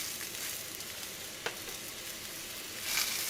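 Birria chili oil sizzles in a cast iron pan, a steady close frying hiss throughout with a brief sharp pop midway and a slight swell at the end.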